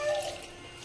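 Water poured into a cooking pot while making a syrup of half jaggery and half sugar: a brief, steady splashing pour, close by and fading within a second.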